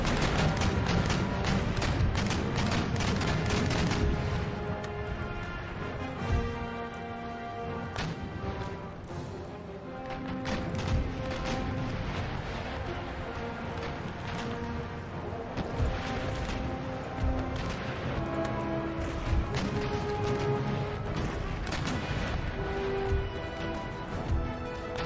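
Naval cannon broadsides in the age-of-sail strategy game Empire Total War, a steady barrage of crashing, thudding shots that keeps rolling on at moderate loudness.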